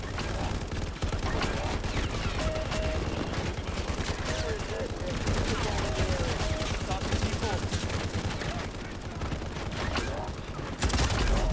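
Call of Duty game gunfire, a dense near-continuous barrage of loud shots and rapid bursts with no pauses, set against steady game noise while a player talks over it.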